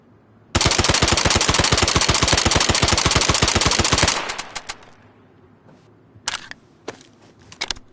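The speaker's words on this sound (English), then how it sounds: "Damn near sound like a machine gun." Rapid automatic-style gunfire from a weapon in the DayZ video game rattles off in a fast, loud, even burst of about three and a half seconds, followed by scattered mechanical clicks and a few sharp knocks.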